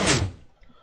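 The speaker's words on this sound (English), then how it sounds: "and this door should open." A Minecraft redstone door on a combination lock opens with a single loud, short thunk that quickly fades, followed by a faint click.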